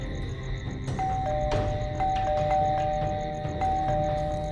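A doorbell rings inside a house in a horror story, a sustained chiming tone that starts about a second in and repeats with fresh strikes over a steady background hum. No one speaks.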